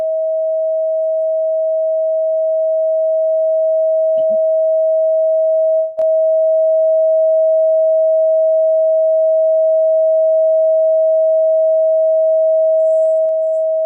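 A single pure sound-healing tone holds steady and loud for the whole stretch, with a brief soft knock and a faint dip in the middle.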